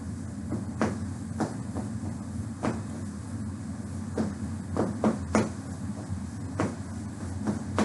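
Soft, irregular taps of feet on a floor, scattered light knocks with no talking.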